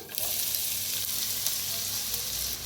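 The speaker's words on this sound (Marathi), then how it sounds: "तेल चांगलं गरम झालंय त्याच्यात टाकूया अर्धा चमचा जिरं अर्धा चमचा मोहरी" Cumin and mustard seeds fry in hot oil with a steady, close sizzle and crackle, continuous and alone without any talk.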